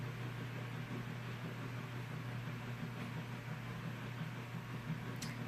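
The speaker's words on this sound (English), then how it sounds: "that's the sound of the washing machine in the background" A washing machine runs somewhere in a home, giving a steady low hum and broad hiss that stays constant and fairly quiet throughout, with no talking.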